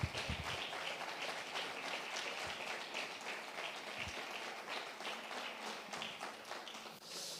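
A church congregation applauds at a sermon, a quiet, sustained wash of many hands clapping together with a few louder thumps, steady throughout and heard from some distance.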